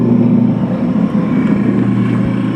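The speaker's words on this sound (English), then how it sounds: "Runs off that electric motor." An electric motor drives the chain-driven travel of a chipper knife sharpener with a continuous loud, low drone and steady mechanical rumble, close up with no talking.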